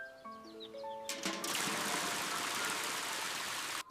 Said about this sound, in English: Let's fill up all the water troughs together.